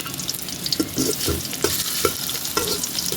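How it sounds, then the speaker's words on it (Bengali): Oil added to a hot pan with onions in a home kitchen, giving a steady close sizzle and frying hiss with scattered stirring scrapes throughout, no voices. "এখন দিচ্ছি তেল"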